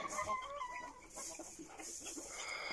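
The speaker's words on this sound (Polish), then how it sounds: "Tutaj kurczaczki" Chickens clucking in a poultry yard, several birds close by in a busy, continuous chatter with a possible rooster note among them.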